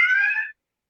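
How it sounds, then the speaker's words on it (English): Household alarm sounding a single loud, steady electronic tone for about half a second, cutting off abruptly into silence. "there's my alarm"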